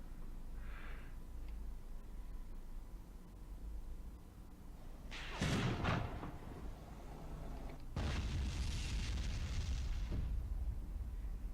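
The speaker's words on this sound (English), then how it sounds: "That sounds like mortars." Mortar rounds explode in a Graviteam Tactics battle, two heavy booming blasts a few seconds apart over a steady low rumble of distant gunfire.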